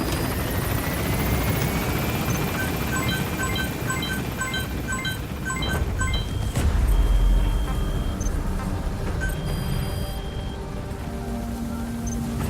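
A military helicopter in Metal Gear Solid V lifts off from a landing zone, its rotor thudding in a loud continuous wash, with brief game interface beeps partway through and a low rumble surge as it climbs.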